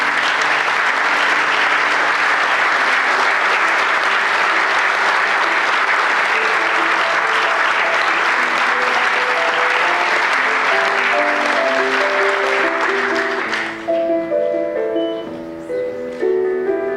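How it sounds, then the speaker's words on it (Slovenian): An audience at a municipal celebration in Laško gives loud, sustained applause for about thirteen seconds, which then fades as music begins. "aplavz"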